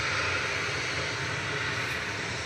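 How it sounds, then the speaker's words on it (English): A Ryanair Boeing 737-800 departing Manchester Airport for Alicante, a steady loud jet engine roar filling the whole moment without a break. "This is flight 2070 for Ryanair 737-800."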